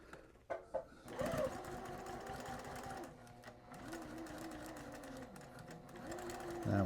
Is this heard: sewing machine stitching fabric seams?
yes